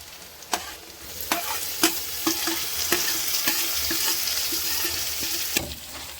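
Chopped tomato and chilli frying together in a pan for a Darjeeling village dish, a steady sizzle broken by several sharp scrapes and clinks of stirring, close up with no voices.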